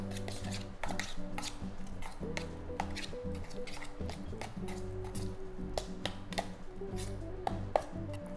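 Lamb dish ingredients being stirred together with olive oil in a bowl, giving a steady run of wet squishing and scraping with soft clicks of utensil against the dish, close and continuous throughout, with no talking.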